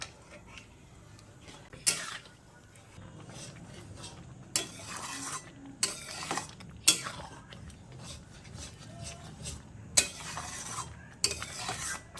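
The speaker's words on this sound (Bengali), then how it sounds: "আস্তে আস্তে জাল দিয়ে আর ভালোভাবে নাড়াচাড়া করে নিতে হবে, যাতে সুজিতে দলা না পাকে" Semolina is stirred in a wok-style pan over low heat while being cooked for a sweet: steady scraping and rasping strokes, with sharper clacks of the spoon against the metal every second or two and a soft sizzle beneath.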